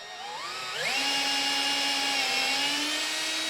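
Power drill boring holes with cutting fluid while fitting a windshield to a Kioti Mechron side-by-side, a loud steady whine that climbs in pitch as the bit spins up and then holds, with no one talking.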